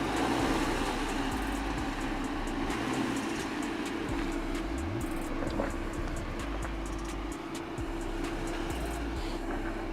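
A Subaru Outback's engine drones steadily at full throttle on an off-road obstacle, its wheels stuck in place, a continuous loud hum with a low rumble and no pauses throughout.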